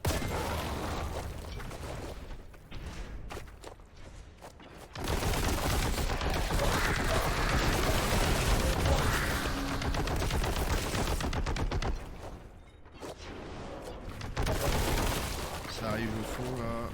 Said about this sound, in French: Ça me tire dessus partout.